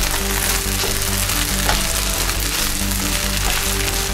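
Rice frying in a pan, cooked until fairly dry, gives a steady, close sizzle that crackles continuously throughout with no speech over it.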